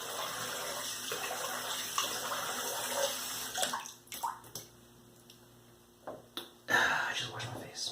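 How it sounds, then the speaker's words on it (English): A face is washed under running tap water: a steady close stream of water for several seconds, then broken splashes and cupped-hand sloshing, a pause, and a final louder gush. "I just washed my face."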